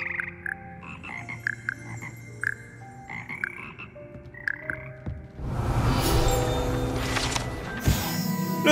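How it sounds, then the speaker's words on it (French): A choir of slimy, melodious frogs in the Hogwarts Legacy music room, croaking in tuned, staggered notes before a dense burst of loud overlapping croaks and crashing noise swells up. "C'est ici que se perchent les grenouilles gluantes et mélodieuses qui forment le cœur des grenouilles de Poudlard."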